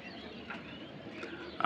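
Racing pigeons coo softly and low in a steady murmur that runs through a very short stretch, close by and fairly quiet.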